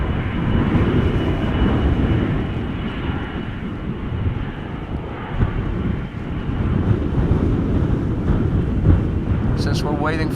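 Boeing 777 airliner lined up on the runway at Schiphol Airport, a steady broad jet engine roar heard from a distance through heavy wind noise, with a voice talking over it.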